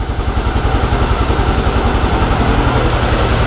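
A Yamaha Mio Gear scooter engine idles up close, loud and steady, with a fast, even low pulse. Its throttle body needs cleaning.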